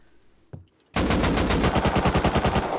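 A loud, sustained burst of automatic gunfire aimed at a bed in the survival game Rust, with rapid, evenly spaced shots firing close up after a brief faint sound and near silence.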